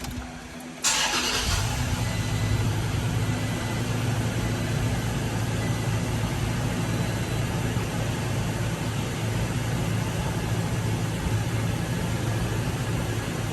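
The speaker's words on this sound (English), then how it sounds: "I'm gonna go ahead and start up the truck" A Toyota Tacoma pickup engine cranks briefly and catches, then settles into a steady, loud idle hum that runs on without any talk.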